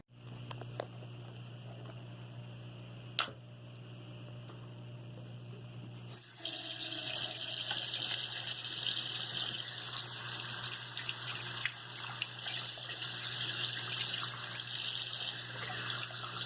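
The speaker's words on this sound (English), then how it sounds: "Rinse the inhaler device with warm water after several uses." Warm tap water runs to rinse an inhaler device, a steady close splashing stream that starts abruptly after a few seconds of quiet hum and a couple of clicks, then continues alone.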